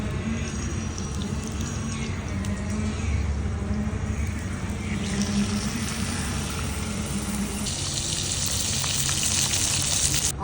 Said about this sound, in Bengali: এক এক করে প্রত্যেকটা মাছ আমি সুন্দর করে মুচমুচে ভেজে নিব।